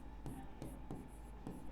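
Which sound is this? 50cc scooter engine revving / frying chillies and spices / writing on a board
writing on a board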